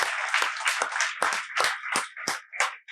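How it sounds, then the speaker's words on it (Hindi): An audience at an open session for selected RPSC school lecturer and assistant professor candidates claps loudly in a steady rhythm, many hands striking together in repeated bursts, with no talking over it. "एक बार जोरदार तालियां बजाओ इन दोस्तों के लिए।"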